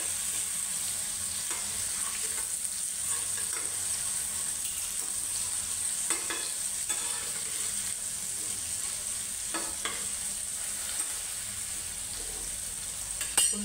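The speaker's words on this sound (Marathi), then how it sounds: "आपण आता वांग्याची थोडी परतवून घेऊ, पलटी करून घेऊया।" Eggplant (brinjal) stir-fried in a pan gives a steady, close sizzle and frying hiss throughout, with occasional scraping stirs of the spatula and no voices.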